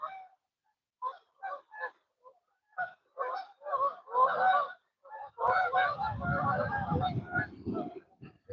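A flock of geese honks over open water on a bright day, with repeated calls in short bursts that build into a dense, overlapping chorus near the end, backed by low rumbling noise.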